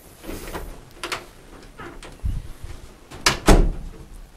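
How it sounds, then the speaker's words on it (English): An apartment door in a snowboard trip rental in Whistler, BC is swung and shut: rustling handling, a couple of wooden bumps, then a sharp latch click and a solid close, fairly near, with no talking. "The door."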